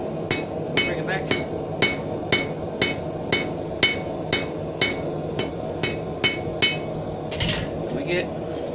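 Backyard blacksmith hammering hot steel on an anvil while forging an octagonal section for a leaf end hook, a steady series of about fifteen sharp ringing blows, close and alone.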